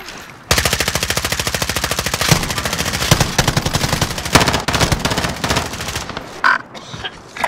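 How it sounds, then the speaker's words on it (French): Sustained machine-gun fire from the left in a video game, a long rapid string of loud, evenly spaced shots with a few short pauses and heavier bursts before it tapers off. "Ah, à gauche, ça tire à gauche!"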